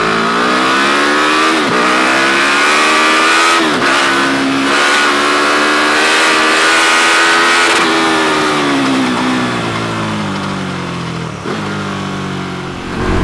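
A KTM Superduke 1290 R fitted with an Akrapovic exhaust pulls hard through the gears, engine note rising in loud sweeps with sharp dips at each shift, close and continuous with no talking.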